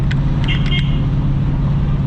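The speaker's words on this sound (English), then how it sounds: "It's got a little baby horn." A few short, thin horn beeps in quick succession over a steady engine rumble, fairly close and small-sounding.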